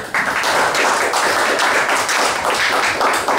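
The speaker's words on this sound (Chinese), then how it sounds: "那个同学可不可以给他们掌声一下？" A classroom gives a round of applause for the teachers, with dense, steady clapping from many hands, loud and close, lasting the whole stretch without any talk.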